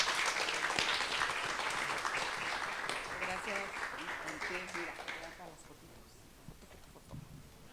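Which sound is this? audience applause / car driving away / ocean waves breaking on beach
audience applause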